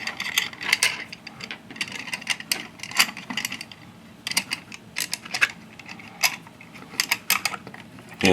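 Small adjustment screws being threaded onto the upright of a Du-Bro Tru Spin prop balancer give close, light metallic ticks and scraping clicks, irregular and fairly quiet, with no talking.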